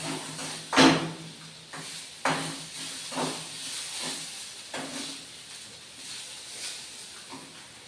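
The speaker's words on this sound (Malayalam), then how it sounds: "ഞാൻ തൽക്കാലം ഇത് വഴറ്റിയിട്ട് ഇഞ്ചി പച്ചമുളകും കൂടി ഇട്ടിട്ട് മാത്രമേ ആക്കുന്നുള്ളൂ" Onion sizzling with ginger and green chili in a pan, a steady close hiss of frying broken by repeated scraping stirs at regular intervals, with no talking.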